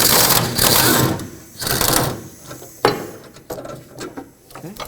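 Socket ratchet working a 16mm sway bar link bolt on a 2005-2010 Pontiac G6, rapid bursts of close mechanical clicking with pauses between strokes.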